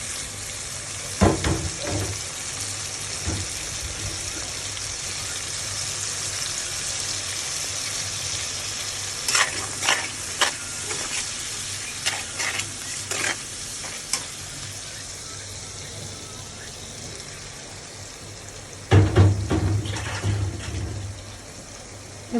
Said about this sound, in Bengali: এবার আমি সম্পূর্ণ মশলাটুকু দিয়ে দেব।